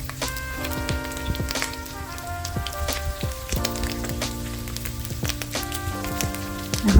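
Onions sautéing in a pan for Bicol Express, a soft steady sizzle with clinking and scraping of a utensil stirring, plus a sustained background hum, no talking.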